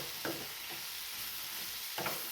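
Cluster beans (gavar) cooked without water in a pan on a low flame, being stirred with a few soft scraping strokes over a quiet, continuous sizzle.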